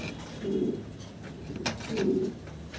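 Two bouts of low cooing from a pair of multicoloured pigeons, a female and a male, at a pigeon farm, close and moderately loud against quiet background hiss.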